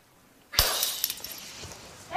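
A vase breaks near a door with a sharp sudden shatter of glassy fragments, followed by a short tinkling settle of debris, close and loud after a quiet start.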